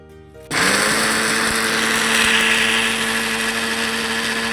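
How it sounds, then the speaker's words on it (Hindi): An electric grinder whirs as it pulverizes cardamom pods with sugar, starting abruptly after a quiet moment and then holding a loud, steady high-pitched motor drone close by. "चीनी के साथ आप पीसेंगे तो बहुत अच्छे तरीके से पीसी जाएंगी"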